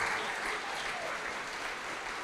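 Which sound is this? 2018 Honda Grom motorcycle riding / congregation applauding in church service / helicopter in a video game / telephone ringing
congregation applauding in church service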